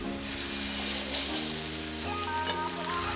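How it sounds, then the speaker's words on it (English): Vegan burger patties sizzling and crackling in a hot frying pan, a steady close frying hiss with a faint humming tone underneath. "Can you hear the sizzle?"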